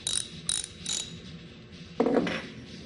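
A ratchet wrench spins a loose bolt, giving three quick bursts of clicking followed by a louder, denser metallic rattle near the end, recorded up close in a quiet room.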